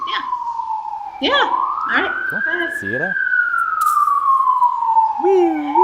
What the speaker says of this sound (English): Sorry about the police sirens. I know it's so loud.